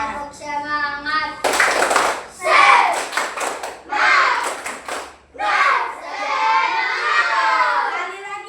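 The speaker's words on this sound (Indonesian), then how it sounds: "Tepuk semangat." Children in a classroom perform a rhythmic spirit clapping chant, loud bursts of patterned hand claps alternating with shouted sung phrases in children's voices, close and energetic.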